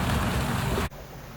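Rain squall on a sailboat, a dense hissing roar of rain and wind that cuts off abruptly after about a second, leaving quiet.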